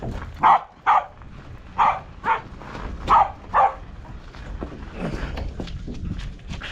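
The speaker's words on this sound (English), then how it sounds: "Bark harder." A dog barks six times in two quick pairs and a single, close and loud, followed by softer rumbling background noise.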